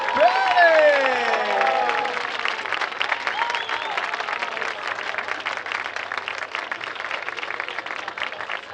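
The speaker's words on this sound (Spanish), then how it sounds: "vamos entonces a dar un aplauso muy fuerte a la tercera clasificada" Sustained applause from a large crowd at a race-walking event in A Coruña, loud and steady throughout, with a few cheers and whistles rising near the start.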